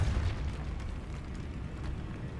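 A Depulso force spell cast in Hogwarts Legacy, a deep booming burst with a low rumbling body that holds steady, then fades slightly over a couple of seconds, loud and close with no talking.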